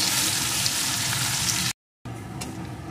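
Chopped onion fries in hot spiced oil in a pan for a restaurant-style red pomfret curry, a dense steady sizzle broken by a brief moment of total silence before resuming.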